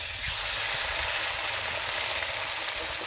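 Ground poppy seed paste with dried chili powder sizzles and fries in a pan while being stirred, giving a steady, dense hiss that stays close and loud throughout, with no talk.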